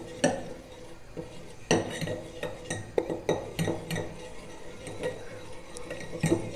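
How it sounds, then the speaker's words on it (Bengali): Sweet yogurt (mishti doi) being whisked in a bowl: quiet, irregular clinks and scrapes of a utensil against the dish, several sharp taps among softer stirring, no voices. "দইটা আমি ভালোভাবে ফেটিয়ে নিয়েছি"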